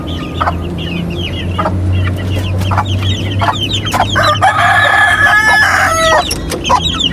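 Chickens cluck steadily throughout a busy farmyard while a rooster crows, with calls close and fairly loud and layered over a constant low background hum.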